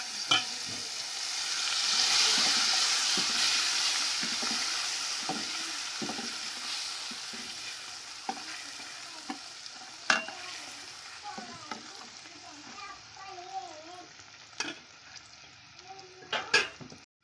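Onions and tomatoes sizzle softly in a pan while a utensil stirs and scrapes now and then, with a few sharper clinks near the end.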